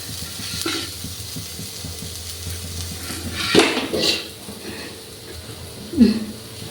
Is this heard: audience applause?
no